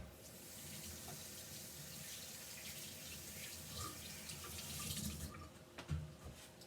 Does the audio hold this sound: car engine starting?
no